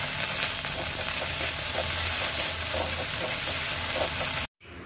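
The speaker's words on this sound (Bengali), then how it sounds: "পেঁয়াজ খুব বেশি ভাজবো না, কিছুক্ষণ নাড়াচাড়া করে নেব। দিয়ে দিচ্ছি আদা লঙ্কা বাটা।" Ginger and chili paste fry with onions in a pan, a continuous sizzle broken by repeated stirring scrapes, ending abruptly with a short drop to quiet; no talk.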